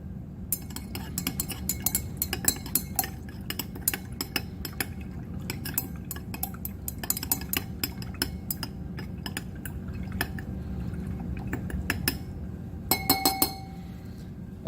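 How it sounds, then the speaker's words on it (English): Glass stirring rod clinking against a glass beaker while a solution is mixed in a lab gravimetric analysis, a steady run of bright, rapid ticks over a low background hum, ending in a denser burst of clinks. "Give this a good little stir."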